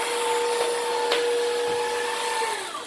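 A Hoover React cordless vacuum cleaner runs steadily and close by, giving a continuous whine with a sustained motor tone that dips slightly in pitch near the end, with no talk over it.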